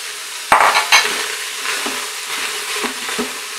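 Onion, pepper and celery dropped into a hot Instant Pot sizzle with a soft steady crackle, with two sharp clatters as the vegetables go in and light stirring scrapes after.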